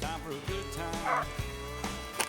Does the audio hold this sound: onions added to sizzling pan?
no